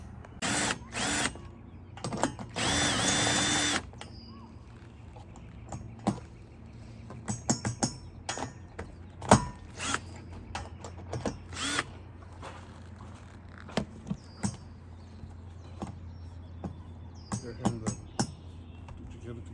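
A power drill loosening a long roof rack rail on a Ram ProMaster camper van, one sustained whirring burst near the start followed by scattered short clicks, knocks and rattles of hardware, with faint talk at times.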